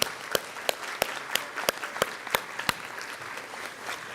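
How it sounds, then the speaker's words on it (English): Audience applause at a 2023 annual general meeting honoring a staff team: sparse, sharp individual claps at a steady rhythm, fairly soft and close, with no voices over them. "look why they deserve your applause"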